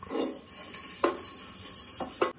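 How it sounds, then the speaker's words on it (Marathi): Utensils being scrubbed and washed at home after breakfast, with a few sharp metallic clinks and scraping knocks at scattered moments under soft background noise. "मम्मी घासते भांडी"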